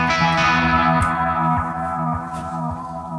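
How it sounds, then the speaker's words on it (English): Guitar chords through a tape delay with worn tape, smeared by a warbling, dark delay, repeats blurring together with a muffled, slightly wobbly tone lacking brightness. "tape age is really neat because it makes it sound like what happens when the tape wears out."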